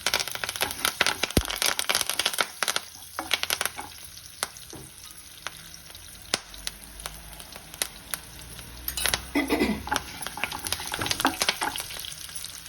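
Slit green chillies and curry leaves sizzle and crackle in hot oil for a Munagaku Pappu tempering, a steady fry with sharp pops and stirring clatter throughout.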